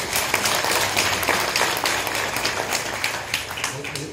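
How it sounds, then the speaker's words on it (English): Audience applause following a choir performance at a university writers' event in the Northern Cape, a dense, steady wash of many hands clapping, moderately loud, with some voices mixed in underneath. "Another round of applause."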